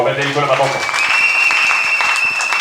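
A church congregation claps in praise of the Lord, a dense, steady wash of applause rising after a brief stretch of voice and carrying on to the end.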